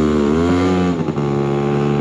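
Two-stroke scooter engine revving steadily and loudly close by during a wheelie attempt, its buzzing tone dipping briefly partway through before holding high again, with no voices.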